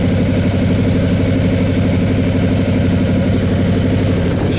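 A Camaro's 305 V8 idles close by, a loud, steady, lumpy rumble with an even pulsing rhythm and no talk over it.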